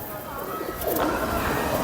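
Close, full-bodied cooing from a Lal Pari Kasuri pigeon, a soft throaty murmur that swells and continues without a break, with a voice talking over it.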